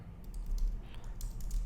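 Keys being typed on a computer keyboard while writing PHP code, a quiet run of soft irregular clicks close to the microphone over a low background hum.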